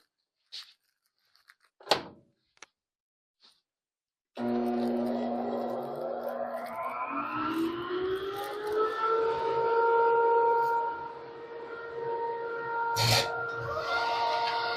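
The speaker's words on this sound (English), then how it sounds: "I'm going to turn the vacuum on." After a few faint clicks, a vacuum motor in a woodworking shop kicks on and whines up to a loud, steady roar, with a sharp bang near the end.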